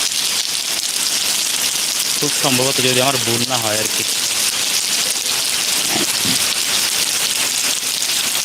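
Steady heavy rain pours down in a Malaysian village, a dense hiss on surfaces throughout, while someone talks over it in the middle stretch.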